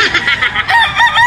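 A mature gamecock crows at close range, one loud, strained crow with a short rising start and a harsh, sustained tail, heard alone without talk.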